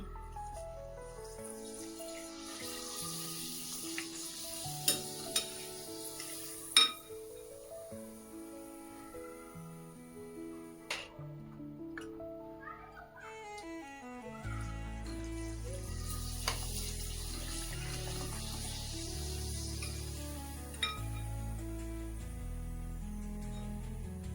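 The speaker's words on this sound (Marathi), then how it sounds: "हे पहा, तेल तापलेलं आहे. आता आपण त्याच्यामध्ये पापड तळूया." Sabudana potato papad going into hot oil, a soft bubbling fry under background music, with occasional clicks and a fuller sizzle in the later half.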